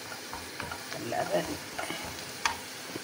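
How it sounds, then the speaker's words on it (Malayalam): Onions for mutton biryani sizzle softly in a pan, with quiet crackling, a few stirring scrapes and a brief clink, fairly faint and close. "ഓക്കെ, നമ്മുടെ ഉള്ളി ഇങ്ങനെ വഴണ്ട് വരികയാണ്"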